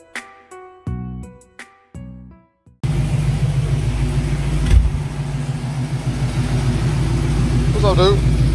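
After a few seconds of sharp tonal bursts, a nearby car engine idles steadily during a UPS package delivery, a low continuous rumble with faint pulsing, while people talk.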